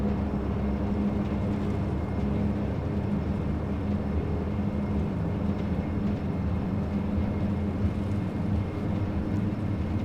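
Majestic Dash 8 Q400 turboprop on its takeoff roll in a flight simulator, a steady loud drone of engines and propellers with a rumbling low end, continuous and unchanging throughout.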